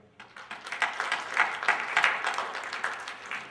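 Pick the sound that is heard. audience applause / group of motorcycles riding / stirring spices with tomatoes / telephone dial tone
audience applause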